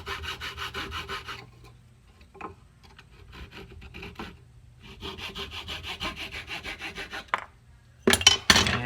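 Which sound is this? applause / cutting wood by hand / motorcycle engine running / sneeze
cutting wood by hand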